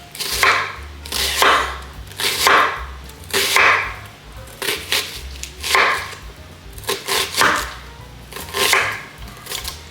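A knife chops vegetables finely on a cutting board for a salad, with close, loud, rhythmic strikes that come in quick clusters with short pauses between them.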